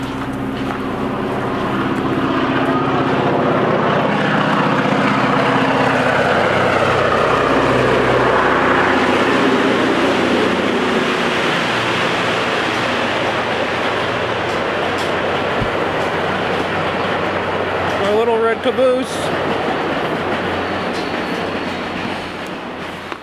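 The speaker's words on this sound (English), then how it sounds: "that is a train that launches out of Jim Thorpe" A tourist train out of Jim Thorpe passes near the abandoned Turn Hole Tunnel, a long steady rumble with clickety-clack of wheels on rails that swells and holds, heard from nearby with a brief scrape toward the end.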